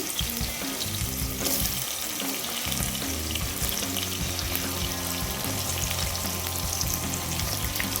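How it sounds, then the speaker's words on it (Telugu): Potato and seeds fry in hot oil for a Rayalaseema-style bean curry, a steady loud sizzle running throughout while a utensil stirs and scrapes through the pan in irregular strokes. "అటు ఇటు కదుపుతూ ఫ్రై చేసుకోవాలి"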